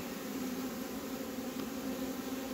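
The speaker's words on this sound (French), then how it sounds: "On va pousser un peu les abeilles parce que les abeilles sont là." Honey bees drone steadily around a hive as a frame box is moved into place, a continuous close buzzing hum with no voices.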